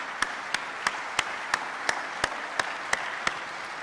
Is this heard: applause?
yes